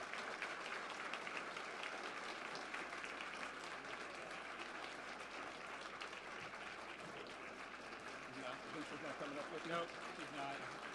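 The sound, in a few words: audience applause welcoming Rich and Lisa to the stage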